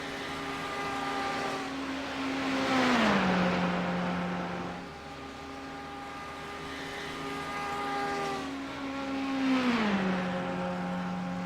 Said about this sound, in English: The Ferrari still trying to pull up, and it looks like he is catching just a little bit of the slipstream here